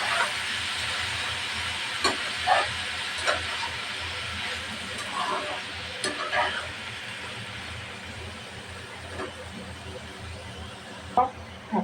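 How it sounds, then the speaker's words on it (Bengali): Spiny gourd (kakrol) frying with salt and turmeric, a soft continuous sizzle and hiss with occasional sharp scrapes of a spatula stirring in the pan. "লবণ হলুদের সাথে ভাজিটা ভালোভাবে মিশিয়ে নেব"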